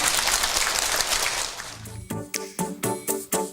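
Audience applause at a talk about cancer origins and prevention, a dense burst of clapping that fades after about two seconds into a few scattered claps and tones.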